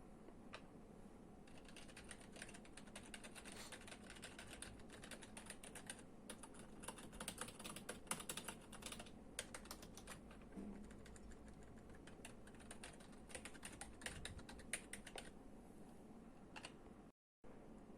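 Steady, continuous typing on a computer keyboard, dense clicking keystrokes close to the mic for the whole stretch with a brief gap near the end.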